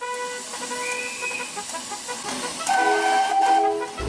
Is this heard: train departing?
yes